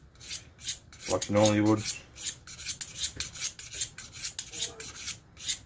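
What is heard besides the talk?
single bevel broadhead sharpened on a knife steel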